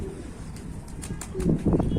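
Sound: pigeons in a coop

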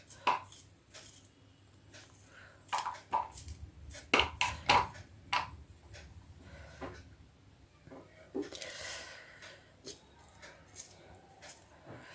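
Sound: chopping onion into small pieces with a knife

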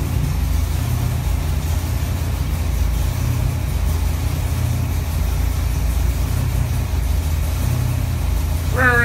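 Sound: Ford 331 V8 engine running on a dyno

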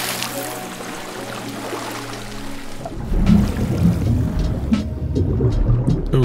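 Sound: video game character entering water, environmental water sounds

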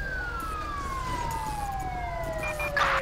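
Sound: police car siren in video game GTA V

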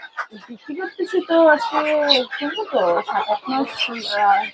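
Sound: caged chickens clucking

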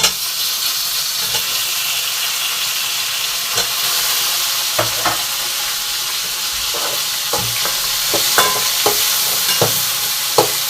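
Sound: tomatoes sizzling and stirred in pan

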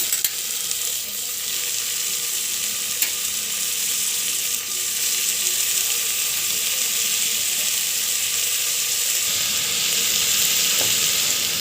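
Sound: boiled beans frying with ginger in a pan

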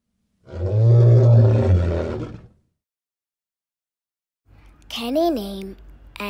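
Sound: lion roaring

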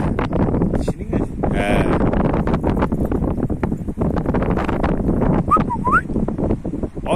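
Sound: strong wind blowing

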